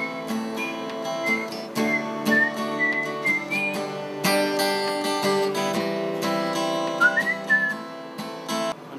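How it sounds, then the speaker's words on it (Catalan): A person whistles a song melody, a wavering tune of sustained notes carried over steady instrumental music, close and fairly loud with no talking. "Me tinc una que xiulo."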